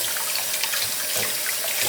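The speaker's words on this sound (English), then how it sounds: "like to rinse my Egyptian onion and have it like this so that water does not go in." Tap water runs steadily while Egyptian walking onions are rinsed at a sink, a loud, close, continuous splashing hiss with no voices.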